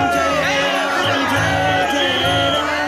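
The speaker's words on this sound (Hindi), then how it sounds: "रामलला के द्वार जारी भक्तों की भीड़।" A crowd of devotees at the Ram Mandir in Ayodhya, a dense, loud murmur of many voices with a continuous droning tone running steadily throughout.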